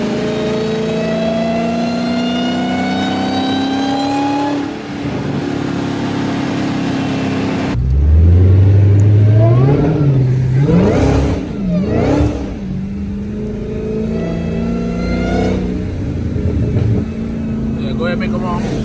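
A Dodge Hellcat Charger rated at 800 to 900 horsepower revs hard and pulls through third gear on a wet road, its supercharged engine roaring loud and near with rising, surging pitch sweeps, while voices talk over it.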